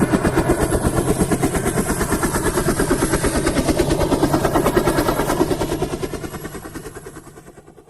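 A helicopter's rotor thumps in a fast, steady chop, loud and close, then slowly fades as it draws away.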